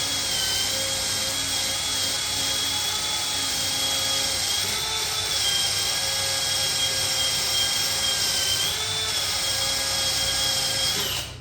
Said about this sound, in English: get you a wire wheel, start cleaning up the area you're gonna need to weld